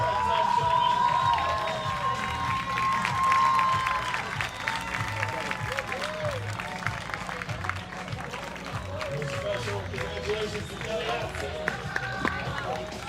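A beach tennis crowd applauds and cheers the champions right after a finals match at Palm Beach. A dense, sustained roar of clapping and shouting carries loudly through the whole stretch, with a voice briefly audible over it early on.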